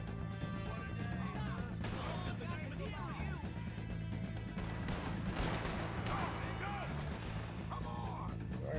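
Gunfire in Red Dead Redemption 2 during a western shootout, scattered sharp shots cracking over continuous game ambience, some close and some farther off, with someone talking throughout.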